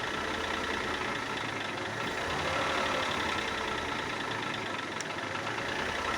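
A car engine runs under a light rev, its worn CV joint making knocking from beneath, heard as a steady broad mechanical drone with faint irregular taps, moderately distant and continuous.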